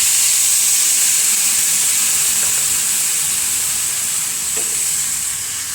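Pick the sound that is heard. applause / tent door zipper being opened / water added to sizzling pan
water added to sizzling pan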